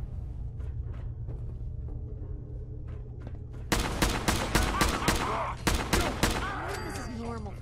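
Gunfire in the video game Fallout 4, a rapid burst of sharp, loud shots in quick succession over a low steady game hum, following a quieter stretch of scattered faint clicks and ticks.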